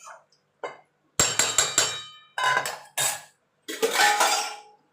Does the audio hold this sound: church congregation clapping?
no